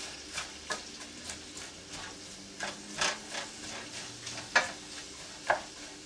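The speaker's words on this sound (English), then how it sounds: "I just use a wooden spoon just to keep the onions on the move" A wooden spoon stirring onions in a non-stick pan, regular soft scraping strokes about twice a second over a faint sizzle, close and quiet.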